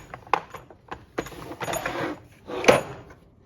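A drawer on a mechanic's tool chest slides open and shut, giving scattered metallic clunks and rattles followed by a longer sliding rumble and a final knock, all close by.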